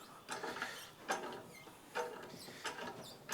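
A workshop press bears down on a car anti-roll bar, giving a series of creaks and metallic mechanism knocks, roughly evenly spaced and fairly close, with no talk over them.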